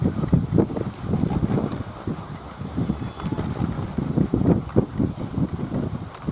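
Gusty wind buffets the microphone outdoors where kolecer wind spinners turn in the south wind, a rough low rumble surging and easing in repeated bursts, with no talk.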